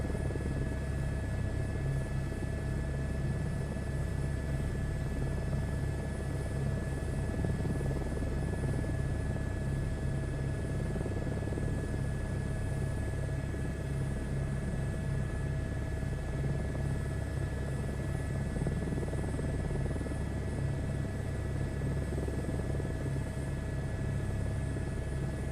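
A helicopter hovering in Microsoft Flight Simulator 2024, a steady, continuous rotor and engine drone with an even throbbing hum and a constant whine that holds unchanged throughout, with no voices.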